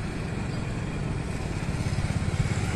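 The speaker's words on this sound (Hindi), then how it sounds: "तो आप देख रहे हैं स्कूटर स्टार्ट हो चुका है।" A TVS Jupiter 125 scooter engine idles steadily at close range, a continuous low rumble that holds at an even level with slight pulsing toward the end.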